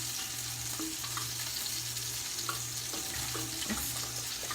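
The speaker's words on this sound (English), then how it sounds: "we just want to bring this to a simmer and get it to really thicken up" A Parmesan lemon cream sauce simmers in a pan, giving a soft steady sizzle and bubbling with faint scrapes of stirring and a low background hum, fairly quiet throughout.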